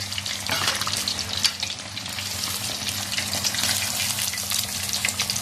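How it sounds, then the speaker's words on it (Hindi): Pieces of fish fry in hot oil with a dense, bubbling sizzle, heard close and fairly even, with a few brief clatters and no speech. "तकरीबन 6 से 7 मिनट हमने इसको फ्राई किया है।"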